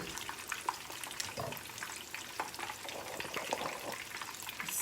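Menchi katsu, a fried minced meat cutlet, frying in oil with a steady dense crackle and sizzle, moderately close with irregular pops throughout and no talk.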